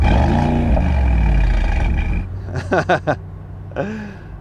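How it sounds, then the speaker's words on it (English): A Mercedes-AMG SL with its louder exhaust setting, revved in neutral: a deep engine rumble settles, then three quick sharp blips rise and fall in a row, followed after a pause by one more rev. "Let's go for the louder exhaust. Annoy some people. Let's just put it into neutral."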